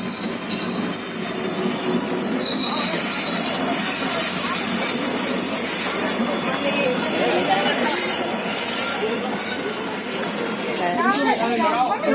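Train at Haldwani railway station, with steady rumbling rail noise, wheels squealing and clattering carriages filling the whole stretch, while a voice talks over it intermittently.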